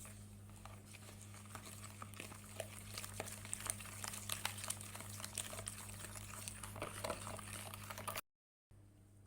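Cupcake batter being mixed, with soft scraping and wet sloshing textures over a constant low hum, ending in a brief silence.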